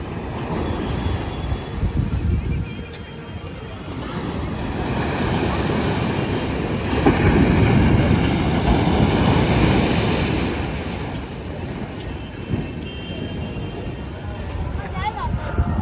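Sea waves breaking on the beach at Old Digha, a steady loud surf roar that swells and recedes, mixed with wind buffeting the microphone and a voice speaking over it.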